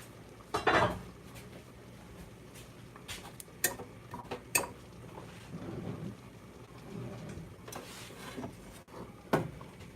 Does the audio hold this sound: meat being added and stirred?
yes